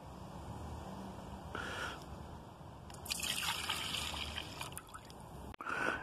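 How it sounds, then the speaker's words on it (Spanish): Red Malbec wine poured into a saucepan, a soft steady trickle and slosh of liquid, fairly quiet and close, with no one speaking. "Ahora ponemos el medio litro de vino en una cacerola."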